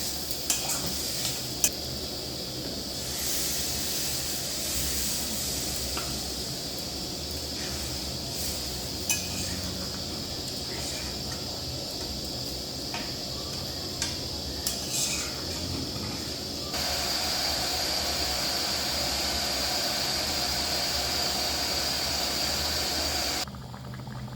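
Fried spice paste for a small prawn and potato curry sizzles in a pan with occasional utensil clinks, then water goes in and the sizzle shifts into a louder, steadier bubbling hiss that continues to the end.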